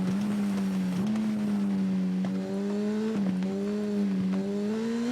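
Superbike engine revving on a circuit in the video game TT Isle of Man, a loud, close buzzing whine that climbs and drops with gear changes, rising in pitch over several short pulls.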